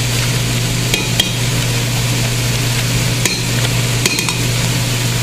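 Garlic and tomato paste sizzle loudly in a hot pan, steady frying hiss with a low hum underneath, punctuated by a few sharp clicks and scrapes of stirring.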